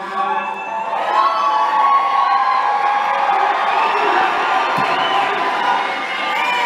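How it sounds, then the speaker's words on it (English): A large crowd at a Turning Point AmericaFest 2025 rally cheers and whoops steadily, a loud, sustained roar from many voices filling the space with no break. "What an amazing crowd all of you are"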